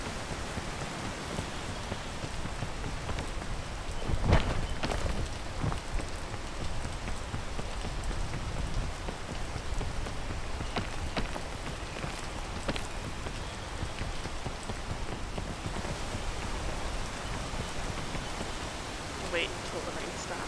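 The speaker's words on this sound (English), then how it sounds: "Wait until the rain stops." Rain falling in the video game PEAK, a steady, even hiss of downpour with occasional louder drops, continuous throughout.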